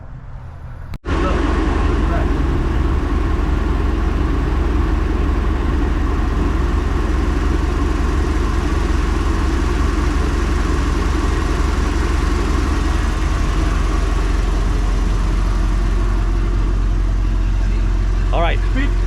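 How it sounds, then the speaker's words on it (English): A boat engine cranks and catches after a brief click, then settles into a loud, steady idle with a constant low rumble that runs unbroken to the end, after new spark plugs. "So now we're gonna start the engine and do the flush and see how everything runs now."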